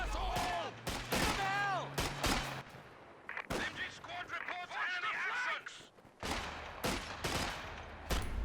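Machine-gun fire in a strategy game during a 2v2 match, rapid bursts of shots that come and go in several clusters, mixed with game effects and a commentator talking over them.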